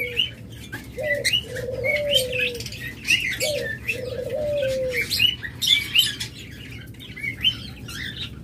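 Pet lovebirds and budgerigars chirp and tweet continuously in a cage, with bright overlapping calls and a few lower cooing notes, close and fairly loud against a steady background hum, with no talking.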